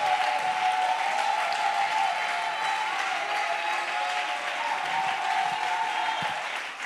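A church congregation at a thanksgiving service applauds in a loud, steady, continuous wave of clapping that holds evenly throughout, with no speech over it.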